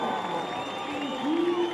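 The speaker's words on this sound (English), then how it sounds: "you can hear the crowd in the background" A crowd cheers and claps on the beach at a surfing contest in Saquarema, Brazil, a broad wash of applause with a rising swell near the end, heard from a distance under a talking commentator.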